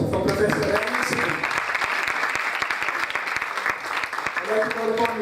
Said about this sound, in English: Huge round of applause for Professor Rainer Sippel